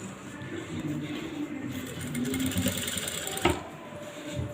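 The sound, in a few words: sewing machine stitching a lace design onto a blouse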